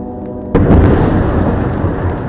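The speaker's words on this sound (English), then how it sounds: "Now the gunshots are getting closer," A sudden loud blast in a war zone, heavy and booming, that breaks in after half a second of low rumble and leaves a long rolling roar of echo and debris behind it, with no voices.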